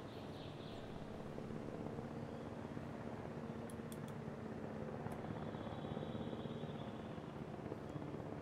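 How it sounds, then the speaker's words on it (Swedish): A helicopter in the Jurassic World video game gives off a continuous, even whirring drone. It stays steady and moderately loud throughout, with a few faint high clicks and no talking. "Jag hör helikoptern."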